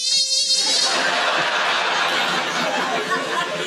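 A voice imitates a mosquito's whining buzz as a mock alarm call on a comedy quiz panel, a continuous high nasal drone lasting several seconds with a hint of chuckling from others near the start.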